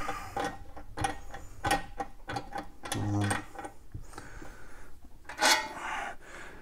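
A 1 1/8 inch knockout punch for a metal arcade control panel is unscrewed and pulled apart by hand, producing close scraping, ratcheting thread clicks and metal rubs in an uneven rhythm, with no talking.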